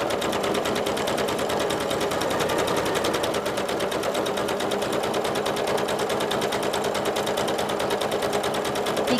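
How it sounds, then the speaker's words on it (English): A sewing machine stitches fabric steadily around curves, a fast, even mechanical rattle running without a break, close and loud, with no speech. "I can pivot around that corner and continue stitching."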